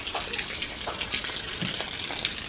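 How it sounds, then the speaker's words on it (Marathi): Water gushes steadily from a pipe on a farm, a continuous splashing rush with no voices. "इथं पाणी काय मस्त पडतं इथून पाईपातून"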